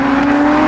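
Aston Martin Vulcan V12 engine blaring as the car flies past, a loud, steady high-revving tone over a very short moment.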